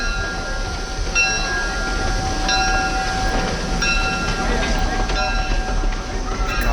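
Chicago, Burlington and Quincy 710, a 1901 steam locomotive built at Havelock, Nebraska, rolls past on the Midwest Central Railroad with steady rail rumble and brief whistle-like tones.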